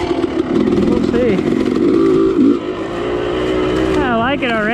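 A Yamaha YZ two-stroke dirt bike running on race gas idles loudly up close, a steady buzzing drone with a few small blips and a brief rev near the end, while a person talks.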